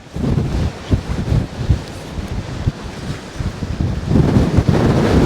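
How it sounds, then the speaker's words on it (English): Strong storm wind blasts across the microphone on the Dorset coast during Storm Darragh, a loud, continuous buffeting roar with gusty surges and surf beneath it, no talking. "This wind is not letting up."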